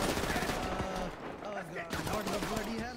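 Rapid Uzi submachine gun fire in a video game during a bank vault robbery, dense bursts of sharp shots crackling across the whole clip, with a voice partly underneath.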